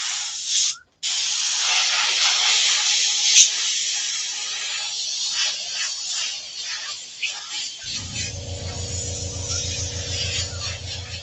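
An airbrush sprays paint onto a leather vest with a steady, close, breathy hiss for about eight seconds, then stops as a low electric hum takes over.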